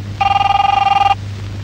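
A telephone bell rings once in a short, rapid trilling burst lasting about a second, close and clear over a low steady hum.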